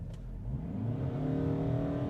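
Ford Maverick XLT Hybrid truck with all-wheel drive, in sport mode and brake-torqued, launching at full throttle for a 0 to 60 run; a steady, rising engine drone builds and holds its revs, loud and continuous with no talk.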